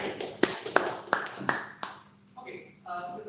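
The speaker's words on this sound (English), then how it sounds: "A big round of applause for both of you." A handful of evenly spaced hand claps for two presenters at an evening presentation session, crisp and close, fading after a couple of seconds as a voice starts talking.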